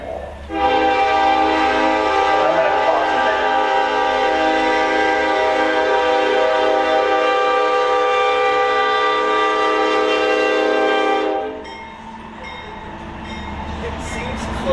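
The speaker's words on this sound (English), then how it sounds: "you know we pause for trains" A train horn blares in a long, loud, sustained chord near a warehouse, holding steady for about ten seconds before cutting off, leaving a lower rumble of the passing train.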